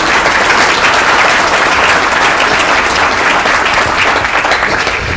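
Dense, steady audience applause fills the room at close range, a continuous wash of many hands clapping without pause and no voices standing out.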